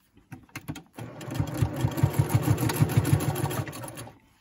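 A sewing machine stitches fabric ties for face masks, starting after a few soft clicks and running in a fast, even pulse for about three seconds before winding down, close and alone.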